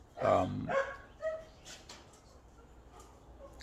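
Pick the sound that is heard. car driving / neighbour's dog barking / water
neighbour's dog barking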